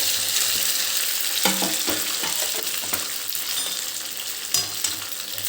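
Chopped dough tossed into a pan of crackling mustard seeds, loud steady frying sizzle with scattered pops and several sharp stirring scrapes close by.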